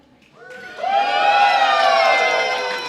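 Crowd at a robot fighting event breaks into loud cheering and whooping that swells quickly and holds steady for a couple of seconds.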